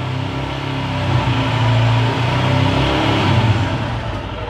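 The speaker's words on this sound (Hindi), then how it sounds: "ग्लास को सीट के ऊपर रखा है और अब हम लोग इसका वाइब्रेशन टेस्ट करेंगे इसको रेव करके" Royal Enfield Scram 411 motorcycle engine held at steady high revs during a vibration test, a loud close continuous mid-pitched roar with slight surges and no talk over it.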